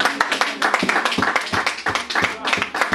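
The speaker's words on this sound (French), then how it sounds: "Est-ce qu'on peut acclamer la parole de Dieu?" A church congregation clapping together in quick, uneven rhythm to acclaim the word of God, a steady patter of many hands with a voice faintly beneath.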